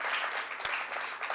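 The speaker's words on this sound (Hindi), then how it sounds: "इनके लिए बहुत बहुत तालियां." Brief, steady audience applause for a young sarangi player at a cultural arts gathering, a dense crowd of clapping with one sharp louder clap partway through.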